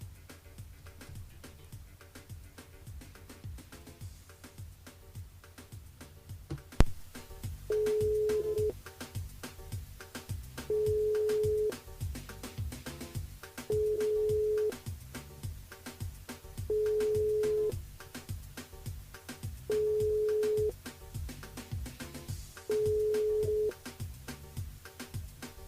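A telephone line tone sounds while a caller is held on a live radio phone line: six evenly spaced steady beeps, each about a second long and roughly three seconds apart, over a faint background hum.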